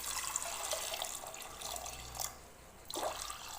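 Water splashes and trickles into a pressure cooker holding washed black-eyed peas, a close, fairly soft pouring sound that swells and pauses in short bursts.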